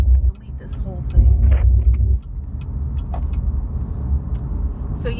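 Car driving heard from inside the cabin: a steady low engine and road rumble runs throughout, with a few short knocks and creaks and some voice-like sounds.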